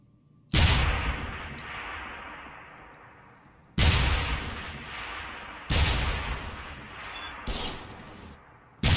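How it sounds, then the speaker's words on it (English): Explosives detonating in Deus Ex: Human Revolution, four loud booming blasts spaced a couple of seconds apart, each with a long rumbling decay, close and dominant. "I'm going to have to blow them up. So I'm going to stand back and detonate."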